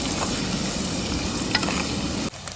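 Dried prawns fry in a pan with a steady, dense sizzle and a few stirring scrapes, loud and close with no talking, then the sound drops away abruptly near the end.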